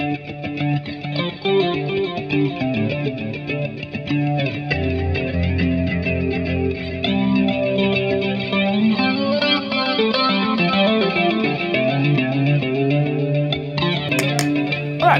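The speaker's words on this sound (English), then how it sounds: "I just can't get this sound without a compressor pedal." Electric guitar played through a compressor pedal, with added stereo effects, gives even, sustained melodic lines and chords at a steady level with a shimmering, chorus-like sheen throughout.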